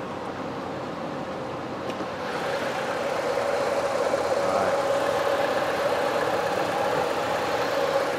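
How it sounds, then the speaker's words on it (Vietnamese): A car's 1.6-litre engine idles with the hood open, a steady smooth hum with a mid-range tone that stays even and moderately loud throughout. "Máy móc nổ rất là êm ái."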